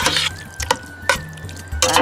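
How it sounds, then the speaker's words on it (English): Water poured into chicken curry in a saucepan, heard as several short splashing bursts with a brief thin whistle-like tone between them, fairly close and with no talk. "I'm going to add some water, but not too much"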